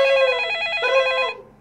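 A telephone rings in Minecraft with a steady electronic trilling tone, loud and close, in two bursts that cut off near the end, with no voices.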